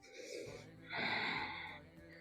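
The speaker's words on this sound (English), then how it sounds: "Long, deep breathing throughout this whole process." A person takes long, deep breaths during a Kundalini yoga spinal rock exercise: a soft airy inhale followed by a louder, fuller rushing exhale, close and alone.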